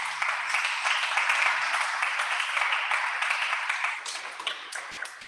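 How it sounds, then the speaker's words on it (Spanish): Applause from a church congregation at a Christmas service, a steady wash of clapping that swells, then thins to scattered claps toward the end. "Un fuerte aplauso a Jesús."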